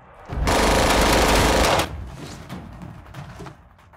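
Rapid automatic gunfire in an action film shootout, a loud dense burst lasting about a second and a half, followed by quieter scattered shots and clatter fading out.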